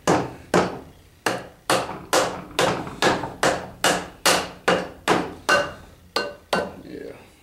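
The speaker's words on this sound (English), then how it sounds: "Alright, got the mallet. See if we can get this thing on here." Mallet pounding a tight-fitting part onto a Kuhn mower under rebuild, about fifteen sharp, loud thwacks at a steady rhythm of roughly two per second, each ringing briefly before the next blow.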